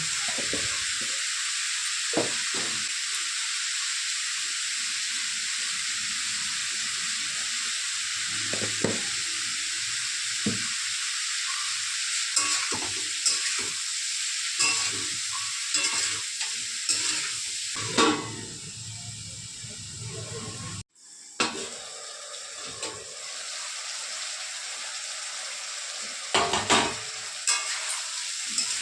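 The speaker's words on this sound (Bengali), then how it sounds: "পরিমাপ মতো হলুদ লবণ দিয়ে এটাকে একটু ভাজা ভাজা করব" Cauliflower stalks fry with turmeric and salt in a pan, a steady loud sizzle and hiss that runs throughout, with occasional stirring scrapes, a brief cutoff near the end, and a short spoken phrase.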